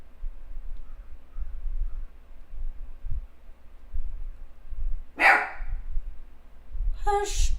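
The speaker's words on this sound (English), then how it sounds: "I bet you can hear my dog pretty well." A pet dog barks twice, loud and close, a couple of seconds apart, in a quiet room with low background thumps.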